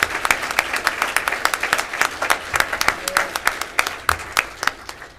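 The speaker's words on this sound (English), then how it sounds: "Can we get a round of applause for those who help make the events like these possible?" A round of applause from the audience at the Montana FFA Convention, with sharp claps in a dense, steady rhythm filling the hall, moderately loud and close.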